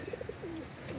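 Pigeons in a coop make soft, low cooing calls: a few short rolling coos, then a longer drawn-out one, faint against quiet background hiss.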